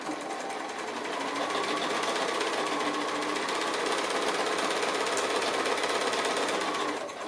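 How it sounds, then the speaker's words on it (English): A sewing machine runs steadily for several seconds, a close, continuous rapid whirring chatter as it stitches cotton quilt pieces together. "So I'm going to sew the sides onto my centre square first."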